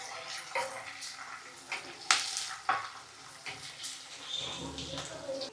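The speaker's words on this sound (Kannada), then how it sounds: "ಈರುಳ್ಳಿ ಹಾಕಿದ್ಮೇಲೆ ಒಂದು 30 ಸೆಕೆಂಡು ಸಣ್ಣೂರಿನಲ್ಲಿ ಹಿಂಗೆ ಮಾಗೋಸ್ರಿ" Onion with curry leaves and slit green chilies sautés in hot oil for a chayote curry, giving a soft continuous sizzle broken by sharp stirring scrapes and clinks of a spoon against the pan, with quiet talk in between.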